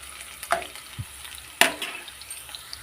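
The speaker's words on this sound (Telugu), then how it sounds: "పచ్చిమిర్చి, ఆనియన్ అయితే ఫ్రై అయింది ఫ్రెండ్స్. ఈ విధంగా ఫ్రై కావాలి." Green chillies and onion fry in oil, a low bubbling sizzle broken by a few sharp spoon taps and scrapes against the pan.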